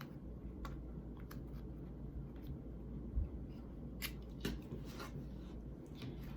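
Scissors cut through fabric along a ruler's straight edge to make continuous bias tape, giving a few faint, close, crisp snips in an otherwise quiet room.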